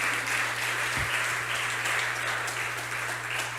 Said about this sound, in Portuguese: Você pode dar uma salva de palmas para esse Deus maravilhoso?